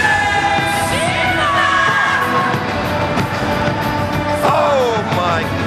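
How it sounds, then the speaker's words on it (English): A huge arena crowd at a Pride FC fight event cheers for fighter Wanderlei, a loud, continuous roar with whoops and rising yells. Whistles cut through, and swells of excitement come and go. "The crowd, listen to that response for Wanderlei."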